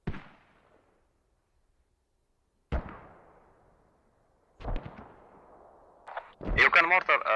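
Mortar rounds in a competitive online military shooter land in three heavy, spaced booms, each with a long rumbling decay, followed by a quick burst of fire before a player starts talking.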